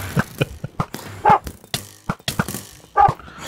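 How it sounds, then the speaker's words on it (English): A Minecraft dog barks repeatedly in quick, close, loud yaps, a steady run of short barks with gaps between them and no voices over them. "dog's going crazy"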